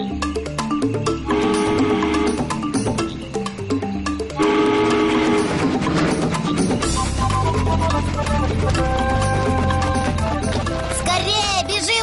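A cartoon train pulls away, its horn blowing over loud rumbling and rhythmic clatter while music plays, and a voice is heard briefly.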